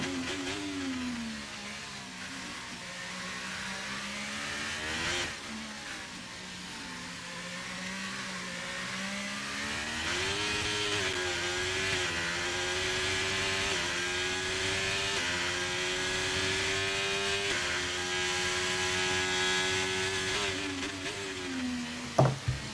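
Formula 1 race cars of the FX23 type circling Silverstone in a racing video game, a continuous high engine whine that rises and shifts pitch through gear changes, steady and fairly loud throughout with no voices.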